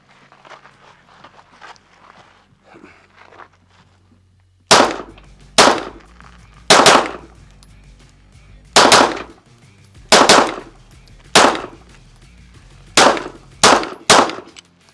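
A new Rost Martin RM1S pistol fired at a range, about ten loud, sharp nearby shots, some spaced apart and some in quick pairs, following a few seconds of quiet talk.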